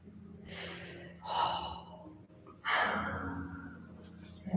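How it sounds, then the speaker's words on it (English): A deep breath drawn in, then a long, slow exhale, close and alone, taken during a guided seated exercise focused on lengthening the spine. "taking a nice deep breath in and exhale out"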